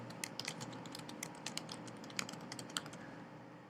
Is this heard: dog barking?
no